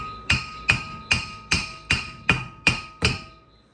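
A brass hammer taps a wheel bearing assembly into place on a 1997 Honda Accord, eight evenly spaced, sharp metallic strikes, each ringing briefly before the next.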